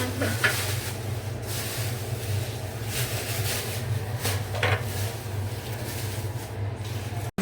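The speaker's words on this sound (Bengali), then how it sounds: "আলুর চপ ভাজতেছে" Potato chops (aloo chop) frying in hot oil in a home kitchen, a steady soft sizzle with occasional stirring and utensil clatter throughout.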